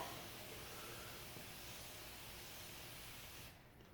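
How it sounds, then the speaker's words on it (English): A spray bottle mists pre-moistened seed starting mix for jalapeno seeds, giving a steady close hiss of fine spray that runs for several seconds before cutting off. "you want to give it a little mist on top"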